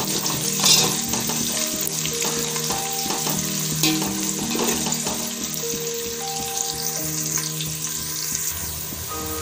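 Green chillies frying in hot oil, a steady dense sizzle with stirring and clinks of a utensil, running throughout alone and fairly close, with some faint water-like background noise.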